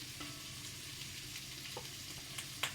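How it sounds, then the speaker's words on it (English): Onions and peppers frying in hot oil in a stir-fry pan, a soft steady sizzle heard up close with a few small clinks and pops and no talking. "Sizzling, so it's hot."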